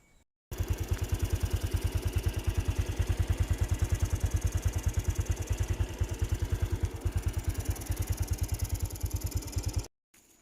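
Two Kubota engines drive the water pump system on a watermelon farm, a loud, steady, rapidly pulsing mechanical chug that runs continuously without talk and stops abruptly at the end.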